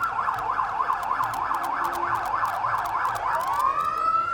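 A fire truck siren from an SA Country Fire Service float at a Christmas parade wails in a fast rising-and-falling yelp, then shifts into a long steady rising tone, loud and fairly near.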